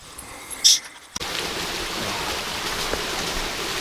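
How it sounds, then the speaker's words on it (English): A small waterfall along the Manistee River Trail gives a steady, close rush of falling water that starts abruptly after about a second of quiet and holds level to the end. "Little waterfall right there."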